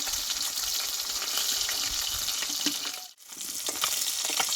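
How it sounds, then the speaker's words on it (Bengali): Bata fish pieces fry lightly in a pan, giving a continuous close sizzle and crackle with one brief momentary drop partway through, and no talking. "মাছটা আমি একটু হালকা হালকা করে ভাজবো মানে খুব লালচে করে ভেজে নেবো না"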